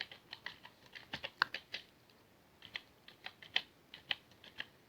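Someone types a channel name on a computer keyboard: a quick run of close, crisp key clicks in small bursts with short pauses, quiet and with no speech.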